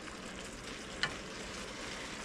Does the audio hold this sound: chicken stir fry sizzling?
yes